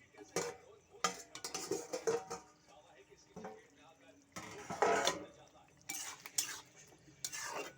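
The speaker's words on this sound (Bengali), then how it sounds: "এবার আমি একটা থালা দিয়ে ঢাকনা দিয়ে দেবো খুলে এবার দেখবো হয়েছে কি না" Clinks and scrapes of a metal plate set over a cooking pot as a lid while potato and cauliflower cook, several sharp knocks with pauses between, a voice speaking softly at times.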